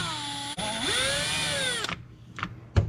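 Power drill removing a body mount from a Traxxas Rustler 2WD RC car: a close whirring spin of about one and a half seconds, pitch shifting as it loads, then a few short clicks and taps.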